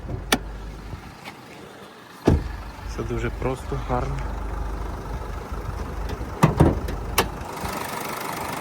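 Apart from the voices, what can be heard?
Nissan Qashqai+2 2.0 dCi engine idling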